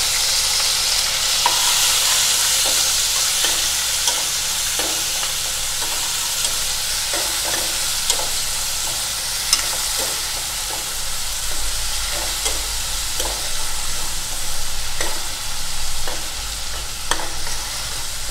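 Onion, green chili, curry leaves and a small tomato fry in oil in a pan, a continuous hissing sizzle with occasional soft stirring knocks and crackles throughout, no one speaking.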